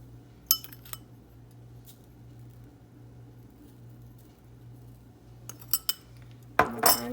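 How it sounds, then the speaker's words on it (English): A spoon stirs a cumin and pepper spice mix in a bowl, meant for seasoning country-style pork ribs, giving a few sparse metallic clinks with quiet gaps and a denser scraping clatter near the end, close up with no talking. "I'm going to stir this up really good."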